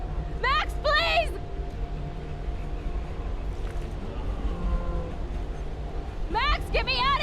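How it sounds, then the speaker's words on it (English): Rumbling approach of a train in the video game Life is Strange, a steady low roar with a sustained tone throughout, while shouting voices cut in at the start and end. "The train's coming!"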